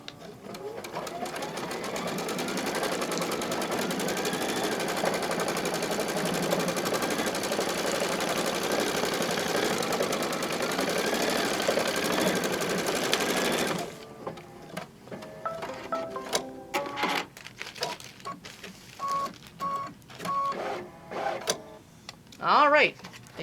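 An embroidery machine stitching an applique flower on a tea towel, a fast steady buzzing drone that stops abruptly partway, leaving scattered clicks and handling knocks.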